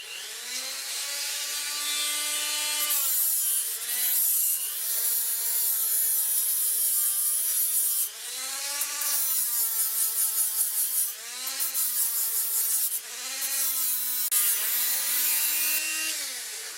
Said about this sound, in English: The actual wheel I'm using on this is a sanding flapper wheel